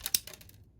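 A Doyle crimping and cutting tool snips through wire strands with two quick, crisp metallic clicks close up, followed by a faint tick and quiet.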